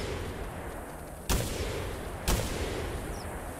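Two separate booming blasts from a Maisto shotgun in the theHunter Classic hunting game, about a second apart, each a sharp sudden report over a quiet outdoor ambience.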